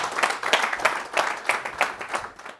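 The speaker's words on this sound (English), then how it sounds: "round of applause, Captain Marvel, Bryan Robson" An audience at a Manchester United event promoting Malta applauds for Bryan Robson, a steady run of clapping with a loose pulse that keeps a moderate level for a few seconds.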